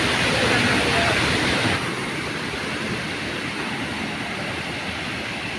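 Fast mountain stream rushing over stones beside a pilgrimage trail in Bharmour, Chamba, Himachal, a loud steady broadband roar, briefly fuller at the start and then slightly softer, with no talk.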